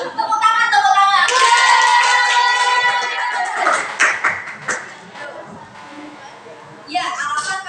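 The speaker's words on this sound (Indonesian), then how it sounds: "Tepuk tangan, tepuk tangan." Students clap their hands in a tenth-grade classroom lesson, with scattered, uneven claps mixed among loud overlapping voices and chatter, then a brief burst of noise at the end.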